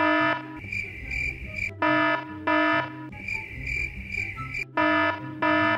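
A loud electronic alarm rings in repeated bursts of harsh, buzzing beeps, stopping and restarting several times up close.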